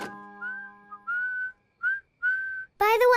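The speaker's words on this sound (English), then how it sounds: "whistling is an excellent way to play music without using electricity." A cartoon pig whistles a short tune, clear pure notes in a few separate phrases with gaps between them, over a held tone at the start, followed by a brief burst of bright voiced sound at the end.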